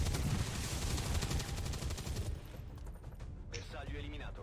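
A burst of rifle fire from a soldier's shot in XCOM 2, a loud rattling volley for about two seconds that fades into quieter clatter, with a voice talking underneath.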